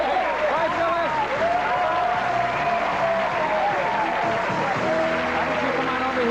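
A 1987 television game show studio audience applauds steadily, a broad wash of clapping while a voice talks over it throughout.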